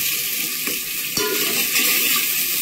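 Shallots dropped into a hot pan fry with a steady, dense sizzle and a couple of faint stirring scrapes, close and continuous throughout with no voices.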